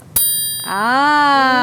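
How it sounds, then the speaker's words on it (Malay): A small metal kerincing jingle is struck once and gives a sharp, bright metallic ring that lingers, and a voice then starts speaking over the fading tone. "ini adalah kerincing, diperbuat daripada logam."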